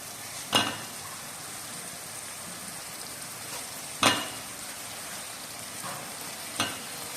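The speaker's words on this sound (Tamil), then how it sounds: "கத்திரிக்காய் வெங்காயம் தக்காளி வதங்கினோடனே கத்திரிக்காய் போடணும்" Brinjal, onion and tomato sauté in a pan with a continuous low sizzle. A spatula strikes the pan in three sharp, close clanks spaced several seconds apart.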